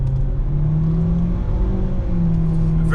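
A 2018 Nissan Sentra SR Turbo Midnight Edition accelerates at full throttle, its engine droning steadily as the pitch climbs under a low road rumble, heard loud from inside the cabin.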